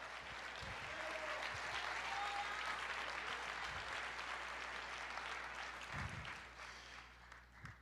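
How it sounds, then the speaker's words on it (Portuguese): A church audience applauds the Lord with dense, sustained clapping that holds steady and then tapers off near the end, with no talking over it. "Aplauda o Senhor"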